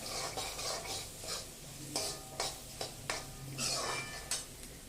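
Chopped onion sautéed with salt in a pan for a restaurant-style mixed vegetable bhaji, with steady close stirring and scraping, spoon clinks against the pan and a soft sizzle underneath.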